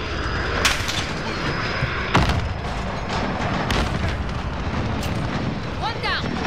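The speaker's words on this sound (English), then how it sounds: "airstrike. Take cover." Airstrike blasts in Call of Duty: Modern Warfare on the Shipment map, a dense continuous roar of explosions with sharper booming bursts standing out, loud and close, under a faint voice.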